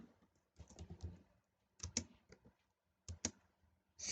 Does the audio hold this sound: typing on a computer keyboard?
yes